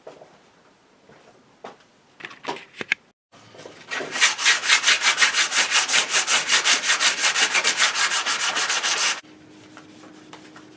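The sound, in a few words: sanding hickory wood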